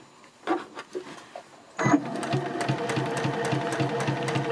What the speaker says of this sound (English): I am going to back stitch over that spot just a little bit to reinforce it